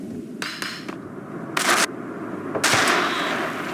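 Gunfire in the video game Max Payne comes as a few sharp bursts, a quick pair of shots early on and then two louder, longer volleys, set against a low rumbling game background with no talk.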